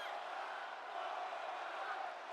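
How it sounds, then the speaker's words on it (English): A dense arena crowd in WWE 2K22 keeps up a continuous, loud roar of chanting and cheering, a steady wall of voices with no break. "And the crowd is chanting one more time"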